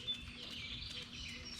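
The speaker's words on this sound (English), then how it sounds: "There's birds out front here." Small birds chirping out front of a house in the morning, faint and distant, a few brief high tweets over quiet outdoor ambience.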